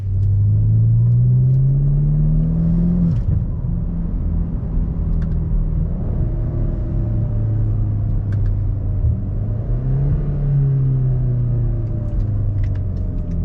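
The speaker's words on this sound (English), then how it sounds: "I'll play a clip now of what the exhaust noise is like, because it's quite drony" A low, steady exhaust drone from a BMW twin-turbo V8 car cruising, deep rumble rising and falling slightly with gear shifts and throttle over continuous road noise.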